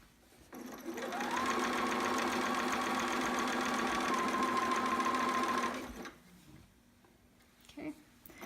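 A sewing machine stitches along the edge of a Nora sitter romper, revving up into a loud, steady, close whir for about five seconds before stopping, followed by quiet handling noises.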